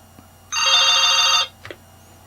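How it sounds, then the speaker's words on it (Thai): A telephone rings once in a single sustained electronic trill for about a second, loud and clear over a quiet background, as a call comes in to an FM radio station program run from a Thai temple. "มีโทรศัพท์เข้าแล้ว"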